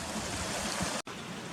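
Waterfall stream running down beneath trees on the walk from Gunnerside to Muker, a steady broad rushing wash of water with a brief dropout midway.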